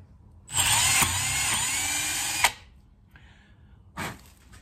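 A power drill with a 4.3mm bit whines steadily for about two seconds, close and loud, opening up holes on a Holden grey motor, then stops; a brief second burst follows after a pause.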